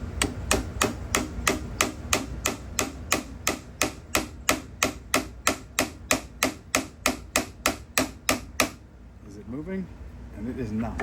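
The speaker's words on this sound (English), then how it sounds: "we're going to punch out this bolt" Sharp, evenly spaced hammer blows drive a punch against a bolt on an SB Tactical SBA3 brace for an AR-15 pistol, about twenty quick strikes in a row, close and loud, before they stop and a voice speaks briefly.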